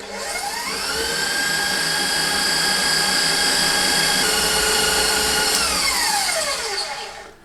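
Electric stand mixer whipping cream into homemade butter, a loud steady motor whine that ramps up at the start, holds evenly for several seconds, then winds down at the end.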